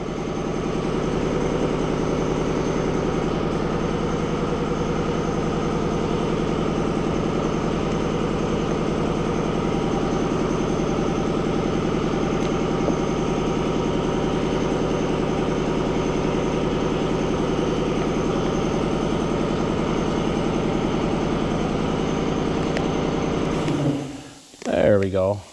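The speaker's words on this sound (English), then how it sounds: "the compressor is running" An air compressor runs steadily in a tow truck wrap shop, a constant loud drone with a low hum that holds unchanged for over twenty seconds before cutting off abruptly near the end.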